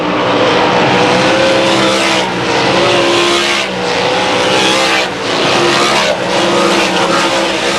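Race cars roaring around a short track at a racing event, loud engines droning and revving continuously, with passing swells as cars go by and tires squealing through the turns.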